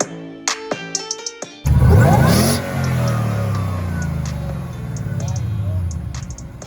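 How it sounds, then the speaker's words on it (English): Ford Mustang V8 with an Edelbrock supercharger fires up at a car show and idles with a loud, rough, steady rumble, revving slightly, after a few sharp clicks and knocks. "Edelbrock supercharger. You definitely hear it."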